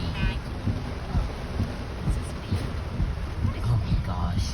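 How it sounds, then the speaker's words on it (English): Heavy rain pours down during a windy storm in Sarasota, Florida, a steady dense wash with gusts buffeting the microphone and a voice speaking faintly in the background. "It's pouring down rain."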